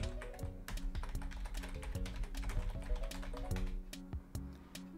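Keys on a computer keyboard being typed in a steady run of quick, close taps, sitting over a busy layer of tonal game sounds during Minecraft play.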